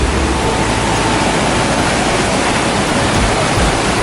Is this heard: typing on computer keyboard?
no